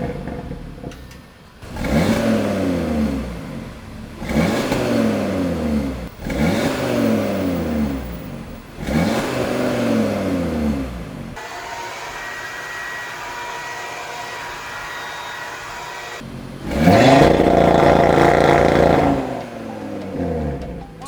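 Audi RS3 with its stock exhaust revving repeatedly, four sharp rises and falls in quick succession, a quieter idle stretch, then one longer, louder rev, close and without talk.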